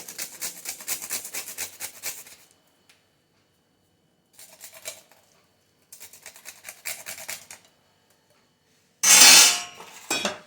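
A spoon scrapes and clinks in a bowl while a sesame ladoo mixture is mixed, in short bursts of stirring with silent pauses, and ends with one louder, harsher scrape.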